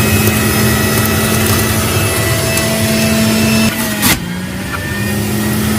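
A Breville BJE430SIL juicer runs on its high setting as a whole carrot is fed through, giving a steady loud motor whine with a brief dip and a knock near the end.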